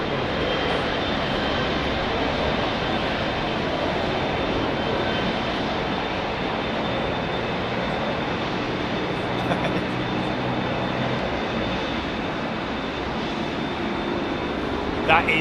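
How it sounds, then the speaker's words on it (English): A Boeing 777-300 jet airliner takes off from Heathrow bound for Singapore, its engines a loud, steady roar that fills the whole stretch without easing. Faint voices talk underneath the engine noise. "That is the mini slinger going out that you're hearing there off to Singapore, 777-300."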